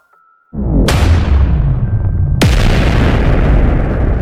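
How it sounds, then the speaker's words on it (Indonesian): A fiery explosion blasting up from the ground in an Indonesian audio drama: two huge, booming blasts in quick succession, the second following about two seconds after the first, with a thick rumbling roar sustained between and after them. "Gelombang api Badar Geni meledak dari bawah kakinya, membentuk lingkaran api yang menjulang"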